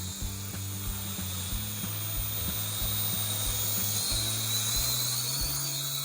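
Small beginner drone's buzzing motors fly back toward the pilot, a steady close whine with rhythmic ratcheting pulses as the throttle changes, loud and unbroken, with no talk.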